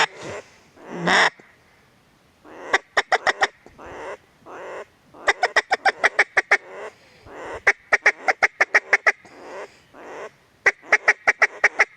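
A wild duck hen calls at a quiet waterfowl hunting spot in Washington, loud and close, giving bursts of rapid quacks in repeated descending runs with short pauses between them.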